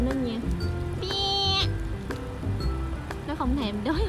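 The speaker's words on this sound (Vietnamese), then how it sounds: "Đây là mấy con dê nó đang tràn ra ngoài đường rồi mấy bạn" Goats at a Texas drive-through safari park bleat several times, close and clear, mixed with rustling and someone talking over them.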